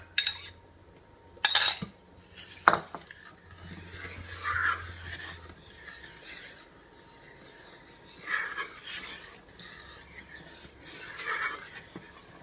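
A utensil stirring ingredients into milk in a bowl for Greek kataifi custard, with a few sharp clinks early on, then softer swishing and scraping strokes in bursts, close and fairly quiet.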